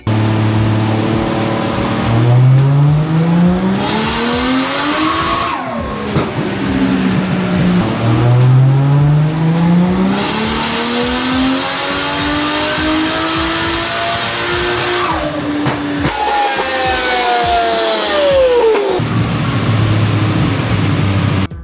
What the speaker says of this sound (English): I've got the Chaser loaded up on the dyno.